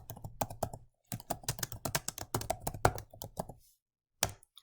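Quick, close keystrokes on a computer keyboard tap out a presentation title in two runs of rapid clicks, a pause between them and one last isolated press, with no talk over them.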